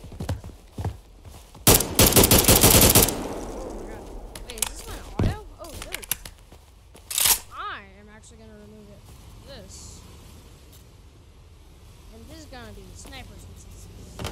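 Gunfire in the video game State of Anarchy: a few sharp, loud bursts and single shots stand out early and midway, while someone speaks quietly between them.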